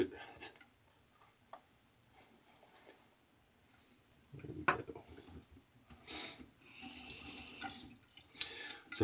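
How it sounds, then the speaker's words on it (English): Water from a tap runs and splashes into a sink in uneven bursts, with scattered clicks and handling noise nearby. "Just need to add a little bit of water to it."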